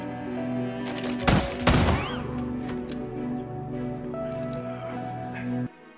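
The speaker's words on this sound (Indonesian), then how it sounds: "beberapa orang di bar perlahan-lahan mengeluarkan senjata mereka dan mencoba untuk menembaknya" Gunfire erupts in a bar as patrons try to shoot a man, a quick cluster of loud cracking shots with ringing tails over a low background hum that cuts off abruptly.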